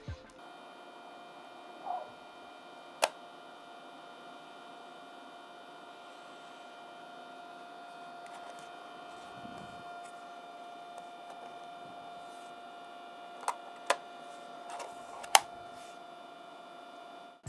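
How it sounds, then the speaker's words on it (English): Fans in a Razer Zephyr face mask run steadily with a thin, whiny tonal hum and a constant low whir, quiet and close, with a few faint clicks and taps over the top. "the fans are noisy and whiny sounding"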